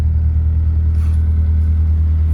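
A Volvo car engine idles steadily just after a cold start following three weeks of standing, a loud, close, low rumbling drone with a faint brief clatter partway through.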